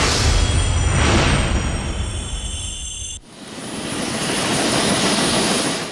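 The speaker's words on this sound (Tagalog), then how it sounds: "Dalawa itong refurbished na UH-1D helicopter sa 21 nabili ng Philippine Air Force" A refurbished UH-1D helicopter of the Philippine Air Force, a loud continuous engine and rotor roar up close that briefly dips and then swells back to a steady drone.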